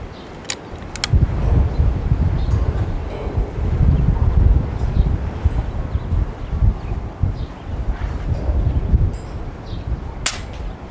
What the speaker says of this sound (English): Because of the wind gusting, you can actually see my gun shaking in the wind.